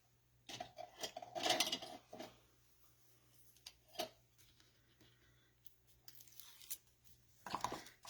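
Double-sided Tear and Tape adhesive tape is pulled off and ripped for card making in several short, close, crisp tearing bursts, with quiet handling noises and pauses between them.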